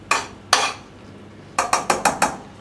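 Utensil stirring basil through a tomato stew in a pan: two separate scraping clinks, a short pause, then a quick run of five rhythmic scrapes and taps against the metal, close and clear with no talking.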